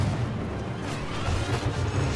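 Explosions and grenade blasts in the Star Wars Battlefront 2 video game, a dense, continuous low rumble of booms running through the whole stretch without clear gaps.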